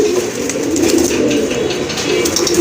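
Pigeons coo steadily in a pen of running pigeons offered for sale, a low continuous throaty murmur of overlapping calls heard close by with no talking.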